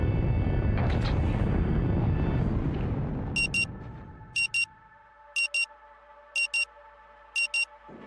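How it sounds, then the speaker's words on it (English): A frantic alarm in the video game Rue Valley sounds as short, sharp repeating beeps in evenly spaced pairs over a sustained electronic drone, after a rumbling low swell fades out. "Frantic sound of alarm nudges you back to the present."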